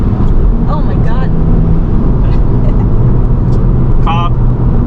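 A 2023 Subaru WRX in stock form accelerates under turbo boost on a road in Mexico, its steady loud engine roar and road noise heard from inside the cabin while a person talks over it.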